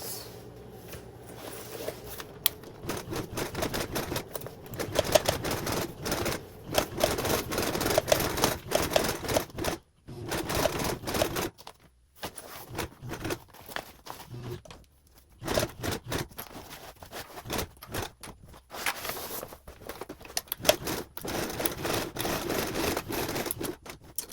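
A sewing machine top stitches a tote bag with an 1/8 seam allowance, running in bursts of rapid stitching separated by brief pauses, close and steady throughout.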